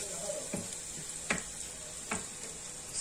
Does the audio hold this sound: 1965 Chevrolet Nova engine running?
no